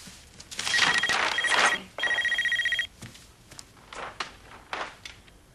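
A phone sounds a text-message alert as a quick run of bright electronic chirps in two bursts. Scattered footsteps and soft knocks follow in a quiet room.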